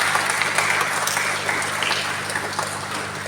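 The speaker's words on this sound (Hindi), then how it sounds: "और एक जोरदार तालियों के साथ आपको धन्यवाद।" A steady, dense wave of audience applause, many hands clapping together at an even level throughout, fairly close and filling the space without any voices above it.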